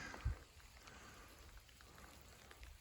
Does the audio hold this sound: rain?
yes